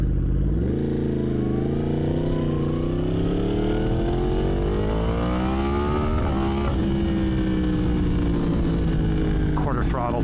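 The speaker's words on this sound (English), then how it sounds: "Quarter throttle power wheelie." A motorcycle engine revs hard and climbs steadily in pitch during a quarter-throttle power wheelie, loud and close throughout, with wind rush over the rider.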